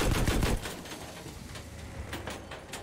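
Gunfire in Battlefield V on an aerodrome breakthrough map, with a rapid loud burst of shots at the start followed by a few fainter, scattered shots.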